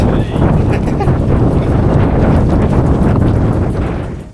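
A strong headwind buffets the microphone on a mountain descent, a loud, continuous low roar with gusty rumbling that holds steady before easing at the very end.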